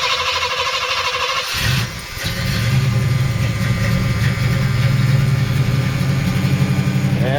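A 1980 Oldsmobile Cutlass 442 starts cold. A brief crank at about a second and a half catches into a loud, steady, rumbling idle that runs on close by.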